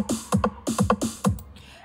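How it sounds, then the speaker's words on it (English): Programmed dembow drum pattern from a Logic Ultrabeat drum machine, a punchy syncopated loop of kick, snare and percussion hits repeating twice in under two seconds, clear and alone with no voices. "So my original Dembow beat is the one that sounds like this."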